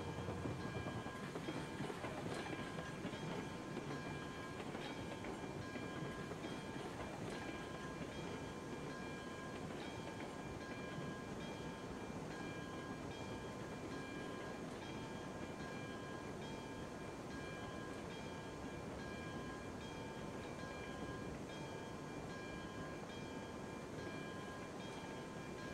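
A long freight train rolls on steadily in the Railroads Online video game, a constant low rumble with faint rhythmic rail clatter and steady tonal hums, quiet and unbroken throughout.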